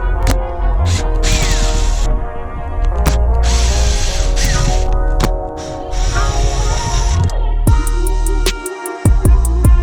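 Phillips screws being removed from the fuel pump cover of an RSX, with clicking, ratcheting tool mechanisms and metallic clatter over a steady workshop hum, ending in a run of quick sharp ticks.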